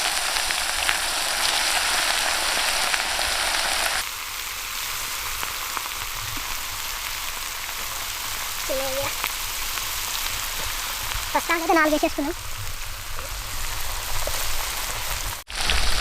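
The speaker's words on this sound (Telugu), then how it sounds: "నూనె వేడైనాక చేపలు వేసేసుకుందాం" Fish pieces fry in hot oil with a steady, loud, crackling sizzle that drops slightly after a few seconds. Brief voices come in faintly over the hiss.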